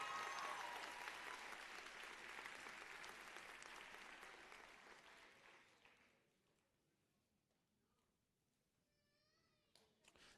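Applause for a PhD graduate at a nursing college convocation, a broad crowd clapping loudly for about six seconds before fading to near silence, with a few faint high-pitched squeaks near the end.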